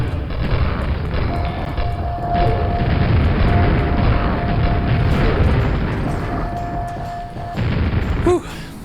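Grenade explosions in the Quake video game, deep booming blasts rolling heavily across a dense, loud mechanical game soundscape, with a sharper pop near the end.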